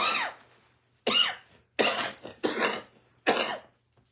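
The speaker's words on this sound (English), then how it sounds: "There's no one to catch my coughs here." One person coughs five times in separate bursts, close and fairly loud, with short quiet gaps between them.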